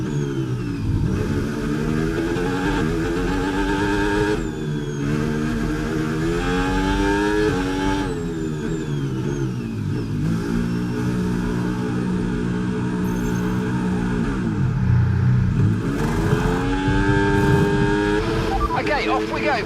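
Engine of an F1 car in the F1 26 racing game, pitting and rejoining the race, revving loudly with rising and falling pitch through gear changes, steady and close throughout, with speech over it.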